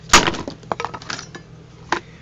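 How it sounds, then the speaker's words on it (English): A hammer striking blocks of beeswax so they shatter into small pieces: a few sharp cracking impacts with brief crumbling clatter, close and isolated, separated by short pauses. "What I do is just any kind of a hammer, and they will just shatter into little pieces."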